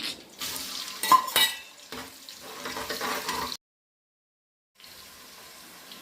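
Onion and green chili frying in a pan with whole spices (cloves, cardamom, cinnamon) for Konaseema-style coconut milk rice, a bright crackling sizzle with a few stirring scrapes, then a short silent gap before the sizzle returns more quietly.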